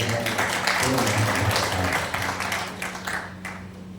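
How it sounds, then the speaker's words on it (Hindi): An audience at a literary festival talk in Mewar breaks into applause, with scattered clapping that is strong at first and then thins out and fades, while a low hum carries on underneath. "एक बार जोरदार तालियों से"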